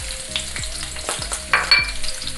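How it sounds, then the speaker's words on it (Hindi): Onion added to hot oil in a kadhai sizzles close and steady, with a few soft stirring scrapes and a sharper flare of crackling late on, no voices. "ऑयल गर्म हो चुका है तो चलें जी अब इसमें प्याज ऐड करते हैं।"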